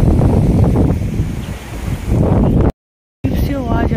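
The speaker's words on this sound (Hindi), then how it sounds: "बहुत तेज आंधी चल रही है" A loud, roaring dust storm gale blasts the microphone with heavy rumbling gusts, cutting out briefly before the howling resumes with a voice faintly beneath.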